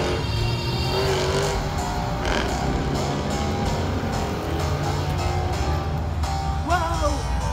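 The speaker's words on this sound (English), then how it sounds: "This dude just stopped traffic just to do a fucking burnout." An SRT8 Jeep doing a burnout on a city street outside a hotel, its engine roaring continuously with tires squealing, loud and sustained, with voices faintly underneath.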